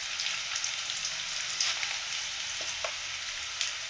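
Food sizzles steadily in a hot pan as turmeric goes in, a soft continuous hiss with a few faint stirring taps, close but quiet.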